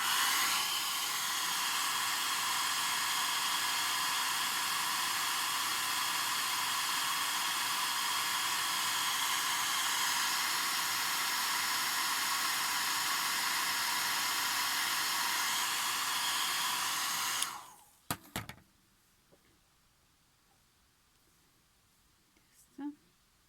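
A hair dryer blows steadily for about seventeen seconds, drying freshly painted fabric for a handmade cloth gnome, a loud continuous broadband rush that cuts off abruptly, followed by a few faint handling knocks.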